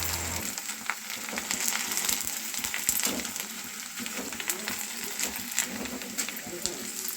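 Vadiyalu, sun-dried fritters, frying in hot oil, a steady crackling sizzle with small pops and occasional stirring clinks, close and continuous.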